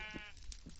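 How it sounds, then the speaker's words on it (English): Sheep bleating in a blocky Minecraft-style survival game, two short nasal bleats close by over a steady background hum. "See a sheep, kill a sheep."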